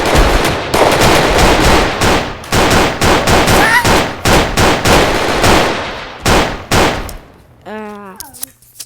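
Rapid automatic gunfire from a pistol fitted with a Glock switch in a video game, loud continuous bursts in several long strings, ending in a brief pause and a short electronic tone.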